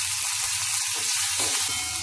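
Spices dry-roasting in a pan for pepper kuzhambu make a loud, close, steady hissing sizzle throughout, crackling evenly with a low pulsing hum underneath.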